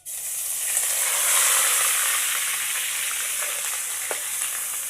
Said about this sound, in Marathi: आपण कांदा खोबऱ्याचं वाटण टाकून घेणार आहोत